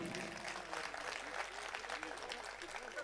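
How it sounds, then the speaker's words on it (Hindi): Faint, scattered clapping from an audience at a Kavi Sammelan and Mushaira poetry event. It sounds soft and distant, with a low hum and a murmur of voices underneath. "एक बार ताली बजा दीजिए।"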